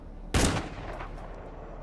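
A single loud gunshot in the shooter game Arena Breakout, a sharp close crack followed by a fading echoing tail and a quiet ambient background.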